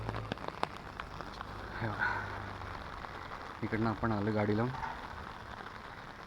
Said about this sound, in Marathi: जबरदस्त पाऊस पडत आहे.